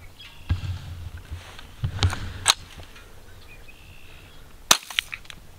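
A semi-automatic toy gun fires a few sharp, snappy cracks spaced irregularly, two in quick succession near the end, with faint handling clatter between shots.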